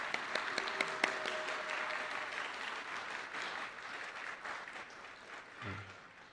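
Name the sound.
congregation applause for the training staff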